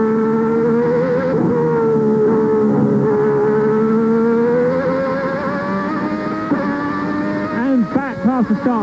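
A 1990 Formula 1 car at the German Grand Prix screams at high revs with a loud, tonal engine wail that holds and drifts in pitch, then drops through sharp downshift blips near the end, loud and close, with no speech.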